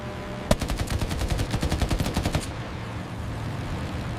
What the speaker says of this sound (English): The Hellcat's heavy armament unleashed devastating firepower.